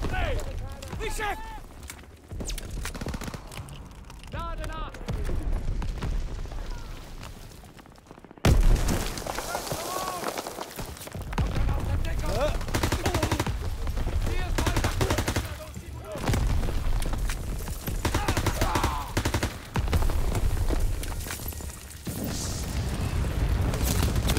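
Gunfire and artillery explosions from the video game Call of Duty WWII during a Normandy landing battle, a continuous dense barrage with heavy booms and voices mixed into the chaos.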